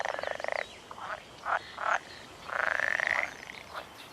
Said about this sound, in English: we've been serenaded by the pool frogs.